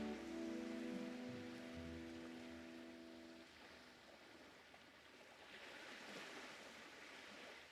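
Ocean waves in the Nancy Drew adventure game, a soft continuous wash of surf and spray with a faint tonal chime early on, quiet and steady, swelling slightly toward the end.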